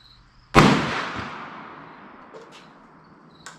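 A single loud .410 slug shot from a New England Firearms SB1 single-shot shotgun with full choke, fired outdoors at a 50-yard target: one sharp, close blast that rings out and decays slowly over a few seconds.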